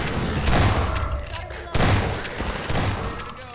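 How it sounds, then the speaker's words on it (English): Booming gunfire blasts in Half-Life 2, a shotgun firing, with two or three heavy bursts spaced about a second apart over a noisy game background. "survive a shotgun blast"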